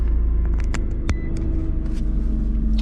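A Nissan GT-R Nismo sits idling after a push-button start, its deep, steady engine rumble loud and close, with a few sharp clicks over the top and no talk.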